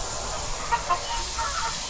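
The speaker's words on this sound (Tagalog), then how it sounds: "Si Lolo Boy gumawa siya ng ano dito, kulungan ng kanyang mga chicken." Chickens in their coop give a few faint, brief clucks over a steady, noisy outdoor background, with no talking.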